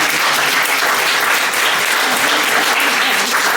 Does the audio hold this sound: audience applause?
yes